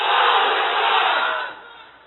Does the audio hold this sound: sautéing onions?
no